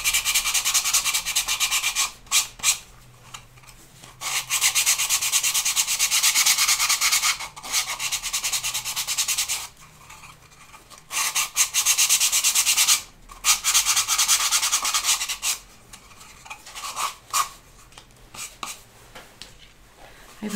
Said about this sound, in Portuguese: Eu tô lixando aqui, nem sempre é necessário lixar as laterais